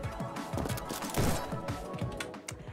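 Rapid gunfire in the first-person game Neon White, a dense cluster of overlapping sharp shots and impacts over game music, loud and close, easing off toward the end.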